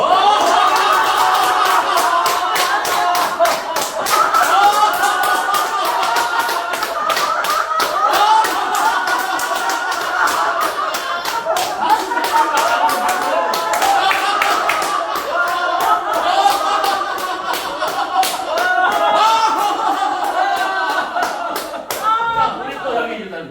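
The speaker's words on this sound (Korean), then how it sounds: "자, 어떻게 하냐면, 박수로다가 쫙 이렇게 해주는 겁니다." A seminar audience at a Korean church laughter session claps together in rapid, loud, sustained rhythmic bursts for over twenty seconds, with voices mixed into the dense clapping.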